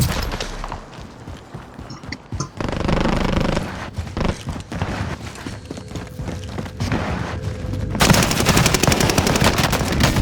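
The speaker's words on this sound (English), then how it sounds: "I'm getting shot from across." Video game battle gunfire, rapid automatic bursts and single shots crackling loudly amid other combat noise, with a louder, denser stretch of fire toward the end.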